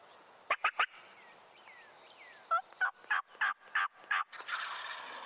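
Wild turkey gobblers in hardwood forest, several loud, close gobbles in quick bursts, a trio early and then a run of five or six, with quieter yelps between.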